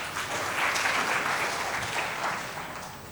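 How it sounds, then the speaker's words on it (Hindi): A crowd of seminar attendees at a trainers and speakers conference clapping loudly for a participant's good answer, a steady dense wash of hands that swells and then tapers slightly toward the end, with no speech. "जोरदार तालियां इनके लिए"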